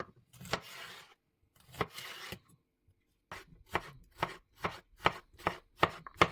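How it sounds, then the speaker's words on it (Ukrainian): A knife cutting a large cucumber, about 300 grams, into strips on a board, sharp rhythmic chops that start with a couple of slower strokes, then settle into a steady fast series, close and crisp. "Обрізаємо його та нарізаємо соломкою."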